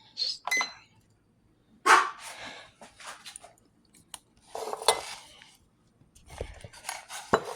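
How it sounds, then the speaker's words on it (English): A knife drops in a home kitchen while pork chops are being cooked, giving a few sharp metallic clatters against a quiet room, followed by scattered softer clinks and handling noises. "whoopsie, a knife fell"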